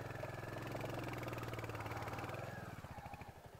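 Motorcycle engine rumbling steadily at low speed while crossing a bridge in Pokhara, Nepal, close and fairly faint, its pulses becoming more uneven toward the end.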